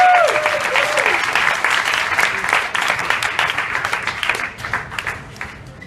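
A crowd at a show-and-tell gathering applauds loudly and steadily, the clapping gradually tapering off toward the end.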